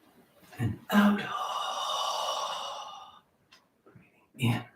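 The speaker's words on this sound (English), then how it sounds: "Breathing out." A slow, deep exhale during a qigong breathing exercise, one long steady breath out lasting about two seconds, close and fairly loud, with shorter breaths before and after.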